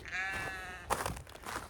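Sheep bleat in a snowy Pacific Northwest farm pen, hungry animals calling with a long wavering cry followed by shorter overlapping bleats, close and fairly loud.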